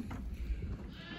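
Sheep from a village flock bleating as they come near, a short wavering bleat rising over low outdoor rumble and background noise.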